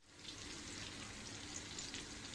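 Bangda mackerel fish fry in a pan, with a soft, even sizzle of oil that stays faint and steady throughout and no one speaking.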